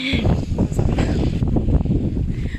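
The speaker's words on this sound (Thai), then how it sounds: "ลมแรงมากค่ะ" Strong wind buffets the microphone on a hillside path near Shitang in Wenling, Zhejiang, a constant loud rumbling roar filling the whole clip with no pauses.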